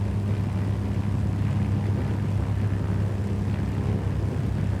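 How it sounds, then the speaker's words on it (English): A GA8 Airvan's piston engine and wind noise in flight in a flight simulator over New Zealand: a loud, constant droning hum with a steady low tone and an airy rush, unbroken throughout. "during the flight it is pretty loud, or like enough to enjoy the sounds of the engine"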